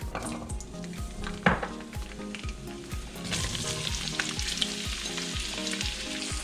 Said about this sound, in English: now the oil is hot, so I'm gonna put the garlic and the onion